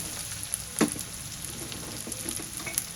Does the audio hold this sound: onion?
yes